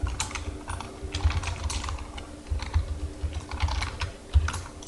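Someone types a server command and a username on a computer keyboard, with close, rapid, uneven key clicks and a few heavier keystrokes running for several seconds. No one speaks.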